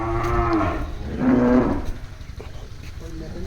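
A Sahiwal cow on a cattle farm gives two loud, drawn-out moos close by, with farm background noise between and after the calls.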